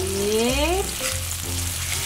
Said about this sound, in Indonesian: Ini aku tumis bawang merahnya dulu ya